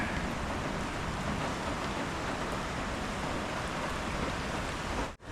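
Light rain falls steadily as a dense, even hiss that runs unbroken for about five seconds before cutting off abruptly.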